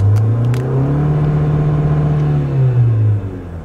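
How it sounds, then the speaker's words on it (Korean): A 2020 Toyota RAV4 with its 2.5-litre gasoline engine accelerating, a loud, close, smooth engine drone rising and holding steady before easing off near the end, with no talking. "가속 페달을 한번 밟아 보겠습니다."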